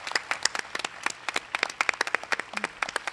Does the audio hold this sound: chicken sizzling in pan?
no